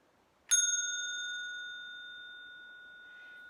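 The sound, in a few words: small antique bell ringing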